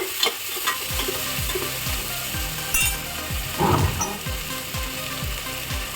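Onions and tomatoes fry in a pan with a steady sizzle while a spoon stirs and scrapes in a regular rhythm, about two strokes per second, close and clear with no talking.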